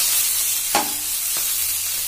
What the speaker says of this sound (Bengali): বরবটি আলুটা ভাজা করছি